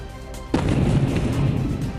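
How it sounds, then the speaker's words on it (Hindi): A sudden loud blast from a drone attack in Moscow erupts after a moment of quiet, followed by a rumbling, crackling roar that lingers. "हमले के बाद जोरदार धमाका हुआ"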